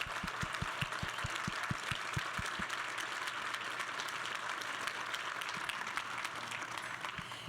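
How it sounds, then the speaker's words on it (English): A conference hall audience at a women's leadership event breaks into steady, dense applause that holds through the whole stretch, with a few sharper individual claps standing out near the start. "please join me in applauding"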